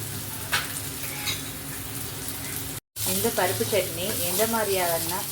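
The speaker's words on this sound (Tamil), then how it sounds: "கறிவேப்பிலை போட்டதும் கட் பண்ணி வச்சுருக்க ஆனியனை போட வேண்டியதுதான்." Onions and curry leaves sizzle and crackle in a hot pan while being stirred for paruppu chutney, a steady close frying hiss that continues under a speaking voice in the second half.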